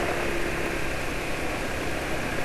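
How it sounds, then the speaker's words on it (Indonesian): A Yamaha NMAX scooter engine idles steadily at close range, a constant rumbling drone with no voices over it. "Saya penulis tunjukkan suara motor ya."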